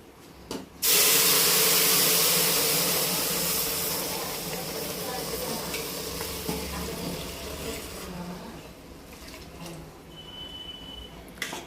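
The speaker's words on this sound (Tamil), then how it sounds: "இதில் நம்ம காய்ச்சி வச்ச பால் ஊற்றிக்கலாம்." Boiled milk poured into a pan of vermicelli fried in ghee sets off a sudden loud hissing sizzle and burst of steam, which gradually fades into softer bubbling.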